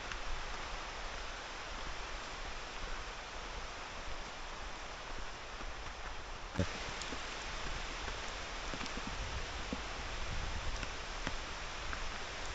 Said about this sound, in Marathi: आला आला पाऊस आला.